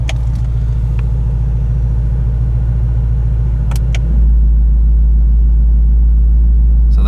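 A 2017 Ford Mustang GT350's active exhaust rumbles steadily, heard from inside the car; partway through, the switch to sport mode brings a deeper, louder low drone that holds to the end.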